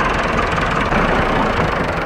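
A tractor engine strains steadily and loudly while pulling a cow stuck in a bog, a continuous low rumbling drone with no pauses.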